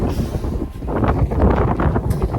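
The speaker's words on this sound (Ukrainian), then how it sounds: "Настільки був сильний вітер." Loud, buffeting wind gusting across the microphone on a mountain in Poland's Tatras near Zakopane, rumbling and roaring in uneven surges throughout.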